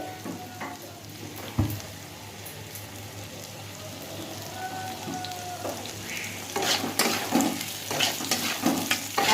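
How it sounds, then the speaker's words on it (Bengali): Potatoes fry with ginger, chili and tomato in a pan, crackling and sizzling throughout, with a sharp clank of a utensil early on and louder bubbling spatters building toward the end, close and without speech. "এবার এটাকে ভালো করে ভেজে নেব আলুর সাথে"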